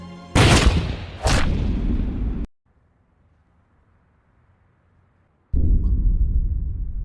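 Gunshots in a martial-arts film scene where a colonel shoots Ip Man: two sharp, loud, close blasts in quick succession with long reverberant tails, then near silence, followed by a sudden return of loud rumbling noise.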